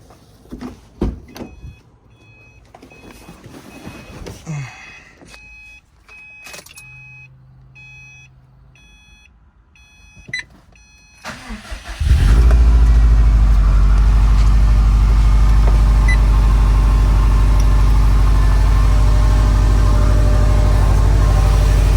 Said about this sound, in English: we're going to do the first startup on this new Stage-3 motor